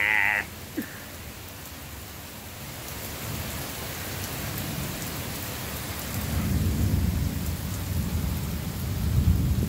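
Heavy rain pours steadily on an outdoor surface during a thunderstorm, with a deep rumble of thunder swelling louder in the second half; no one speaks.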